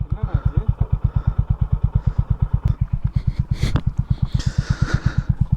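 A motorcycle engine running steadily on a hill-station road trip, thumping in a fast, even rhythm close to the microphone, with a few brief clatters and knocks over the top.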